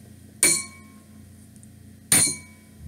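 A drinking glass is tapped twice about two seconds apart, each strike a bright, clear clink that rings briefly in a quiet room.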